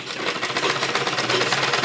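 Sewing machine stitching an embroidered suit with lining, the main fabric and inner layer sewn together; a steady, fast mechanical whirr runs continuously and fairly loud with no talking.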